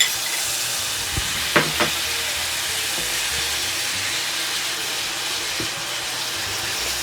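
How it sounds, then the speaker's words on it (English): Pork searing in a very hot pan for a stir fry, a steady, close sizzle with a few brief clatters of utensils early on. "I want to let this sear and get very nicely seared"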